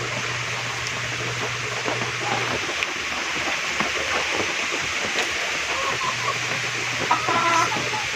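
Chickens cluck and chatter steadily at close range while feeding, over a constant low hum, with scattered pecking and clucks throughout.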